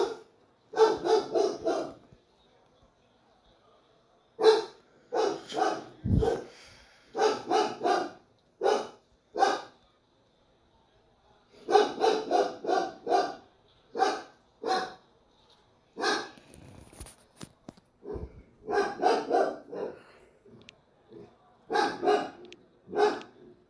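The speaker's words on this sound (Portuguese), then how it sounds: "E ele voltou a latir." A dog barks repeatedly in several bursts of quick, loud, close barks separated by short quiet pauses, with no talking over them.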